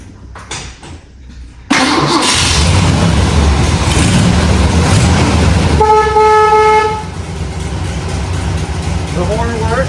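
A 1969 Ford Cobra 428 SCJ Drag Pack with a 4-speed sounds its horn, a steady two-tone blare lasting about a second over the car's loud idling engine, with voices nearby.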